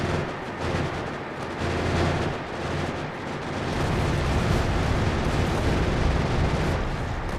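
Artillery cannons fire in a video game with fire and napalm shells, a dense, continuous roar of booming blasts and rumbling explosions that stays loud throughout with no talking.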